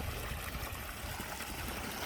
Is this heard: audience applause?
no